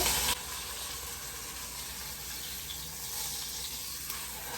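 Pot roast meat that has just been flipped, sizzling in a hot pan after being dredged in flour: a steady, close crackling hiss that carries on without a break.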